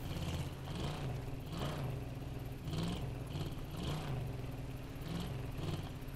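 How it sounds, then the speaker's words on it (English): A car engine in Call of Duty Blackout drones at a distance, low and faint, its hum rising and falling in repeated swells as the vehicle approaches, with no talk. "I hear a car."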